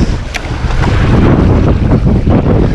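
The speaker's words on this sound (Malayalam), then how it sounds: "നല്ല അടിപൊളിയായിട്ടുള്ള കാറ്റുണ്ട്," Strong wind buffets the microphone aboard a boat out fishing on the water, a loud continuous roar with gusty surges and no talk.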